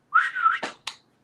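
A person whistles a short tune: a sustained, slightly wavering whistled note, then two brief sharp chirps in quick succession, close and clear with no talk.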